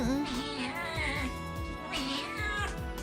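Small kitten mewing repeatedly at an adoption shelter, a run of high, drawn-out meows spaced through the moment, close and clear with faint background sound.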